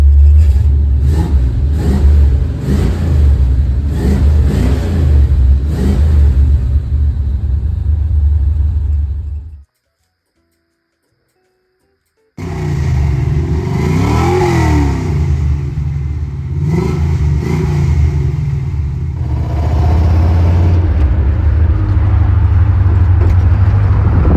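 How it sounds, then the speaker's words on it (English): 1979 Camaro Z28 with a V8 roaring through a custom-built exhaust, loud and close with deep rumbling revs, a brief cut in the middle, then repeated throttle blips and a sustained rumbling idle. "And a full custom exhaust that I built."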